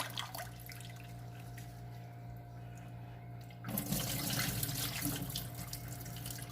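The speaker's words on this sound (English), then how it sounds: "So you just need to wash your rice, just the usual" Rice being washed under running water at a kitchen sink, a steady faint tap stream that swells into louder splashing and sloshing partway through, close by with no talk.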